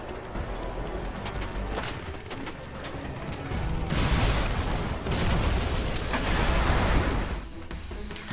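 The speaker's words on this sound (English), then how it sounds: "It's explosions." Explosions boom in the video game Red Faction Guerrilla as petrol stations are blown apart. A dense, rumbling roar swells in the middle and holds for several seconds before easing off.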